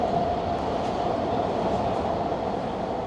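Vancouver SkyTrain car riding along the line, a steady close rumble and rushing hiss of wheels and motors with a faint higher whine, continuous and even throughout, no voices.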